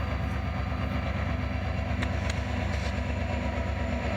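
Florida East Coast freight train locomotives rumbling past with a steady low engine drone and rolling rail noise, continuous and fairly close, no speech.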